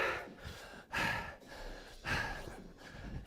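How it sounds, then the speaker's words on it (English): Loud, close heavy breathing during a full-body workout: several deep rasping inhales and exhales in a steady panting rhythm, with no talking. "Heavy breathing."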